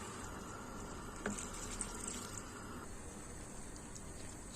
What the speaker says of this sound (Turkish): iki kanatılmış su bardağıyla su e, üzerine ilave ediyorum